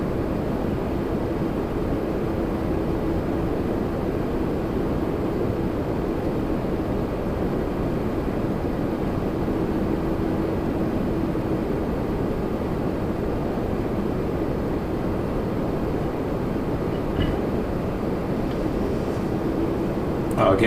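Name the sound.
Endeavor CRJ-700 jet from Detroit at Toronto Pearson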